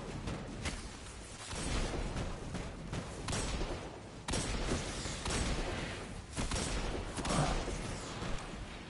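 Rapid gunfire bursts from the shooter video game Destiny 2, dense and continuous volleys with sharp cracks, loud and sustained throughout the multiplayer fight with no talking.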